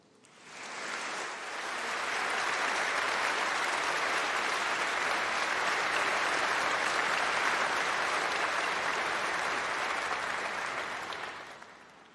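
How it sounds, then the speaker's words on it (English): Audience applause for staff at a university graduation congregation in a hall, a long steady wash of clapping that swells in, holds dense and even for about ten seconds, then fades. "Please give them a round of applause."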